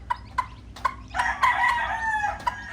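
A mother hen clucks close by with her newly hatched chicks, short clucks followed by a longer run of soft cackling and cheeping.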